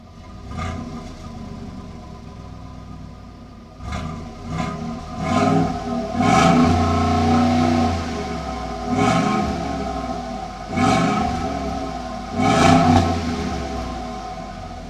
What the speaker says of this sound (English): Has two big mufflers on the thing, and it still does sound really good.